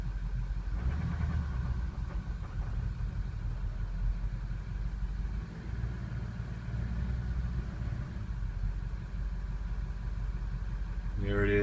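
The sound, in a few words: diesel truck engine stumbling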